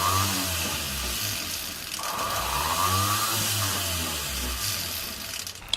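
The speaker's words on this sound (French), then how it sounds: "c'est une meulette silicone." A small rotary tool with a silicone polishing wheel finishing silver earrings with coral, giving a steady high whine that rises and dips in pitch as it presses on the metal, close and continuous without talk.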